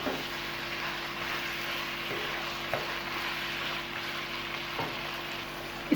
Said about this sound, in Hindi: इसको इसके साथ 5 मिनट के लिए फ्राई करेंगे